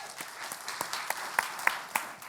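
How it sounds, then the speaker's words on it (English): Audience applause for Colonel Tim Curry at a downtown retention conference, a steady wash of many clapping hands with a few sharper individual claps standing out, moderately faint and heard alone without talk. "let's give a round of applause for Colonel Curry"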